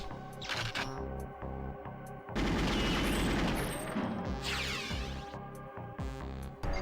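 Gunfire at the firing range in the video game Perfect Dark: repeated weapon shots crack out in bursts, building into a dense stretch of rapid continuous fire midway before separate shots return, loud and close.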